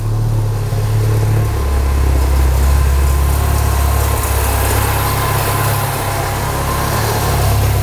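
Mini Cooper engine running slightly rough right after installation, a loud, steady idle drone with a low throbbing hum that shifts a little early on and continues unbroken.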